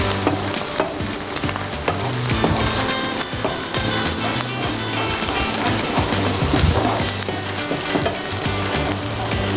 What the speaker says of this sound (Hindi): थोड़ा सा अच्छी तरह फ्राई कर लीजिए।